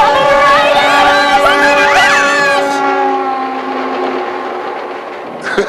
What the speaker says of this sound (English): It's a big train coming right at us!